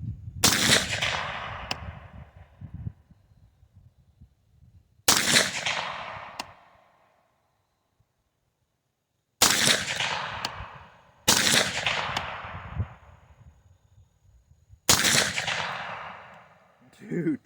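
Five sharp gunshots from a 12-inch direct-impingement AR pistol chambered in 22 TCM, each loud and close with a long ringing decay, fired in an irregular sequence with pauses of several seconds between some shots.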